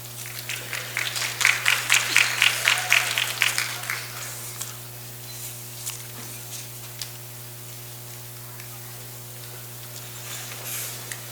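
Applause at a commencement ceremony for a graduating class, a loud burst of clapping that fades after a few seconds into sparse claps over a steady hum.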